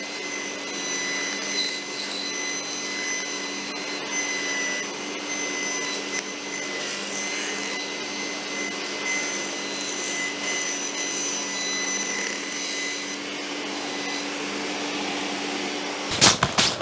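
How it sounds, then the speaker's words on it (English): A table saw with a zero clearance insert cuts thin wooden kumiko strips, a steady high whine with faint cutting rasps, ending in a brief burst of louder noise. "It was quicker, more accurate on the table saw."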